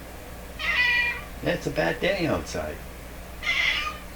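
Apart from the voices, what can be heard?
cat meowing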